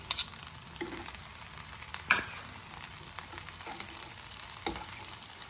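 Ghee sizzles in a frying pan with a steady, crackling hiss, sharpened by occasional louder pops and stirring scrapes close by.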